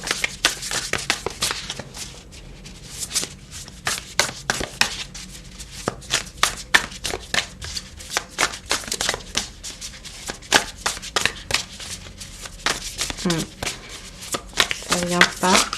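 Tarot deck shuffled for a card reading, producing steady rapid riffling and slapping bursts throughout, close and fairly loud, with occasional speech alongside.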